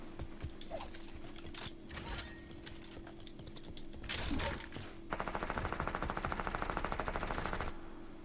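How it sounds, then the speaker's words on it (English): Minigun firing in Fortnite, a rapid, even stream of mechanical shots for a few seconds near the end, after scattered bursts of gunfire and game sounds. "Bro's just standing there with a minigun."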